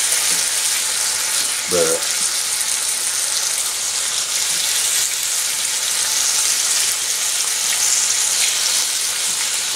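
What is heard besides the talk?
bacon frying in a pan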